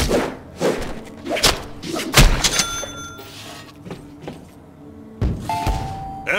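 Melee light and heavy attack hits from the Deadpool video game: a string of heavy thuds and slams, irregularly spaced, with whooshes between them and a couple of brief ringing tones near the end.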